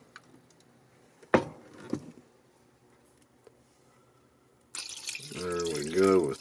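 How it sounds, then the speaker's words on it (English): Water poured from a can into a cooking pot of chicken noodle and broccoli soup, a steady close splashing pour in the last seconds after a few clunks of handling. "Need to pour up a can of water here."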